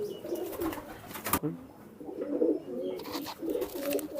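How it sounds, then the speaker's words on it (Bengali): Madrasi pigeons of a magnet-line breed coo in low, soft rolling phrases, three bursts close by, with a sharp flutter or click near the start and quiet gaps between. "এই পায়রাটা হচ্ছে ম্যাগনেট লাইনের পায়রা এটা একটা ম্যাদ্রাজি কবুতর"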